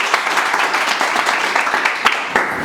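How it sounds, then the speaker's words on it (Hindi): Audience applause at a mobile chip-level training batch farewell and certificate function, a dense burst of clapping from a room of people with a few sharper claps standing out, steady throughout. "MD सर के लिए एक बार जोरदार ताली"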